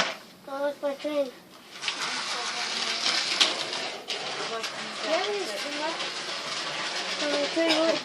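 A toy model train runs with a continuous hiss and rattling clatter, close and steady, while a voice talks excitedly over it.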